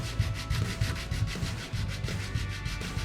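A guitar nut blank is sanded thinner by hand, making a close, rhythmic back-and-forth rasping scrape in repeated strokes with no talk.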